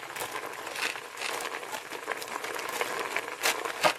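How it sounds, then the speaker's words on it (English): A knife works slowly through a dense head of cabbage, giving a crisp, crackling, crunchy tearing sound up close, steady and fairly quiet with a few sharper snaps near the end. "Now I'm going to set it on the core, and I'm going to cut through, or I'm going to cut but not through."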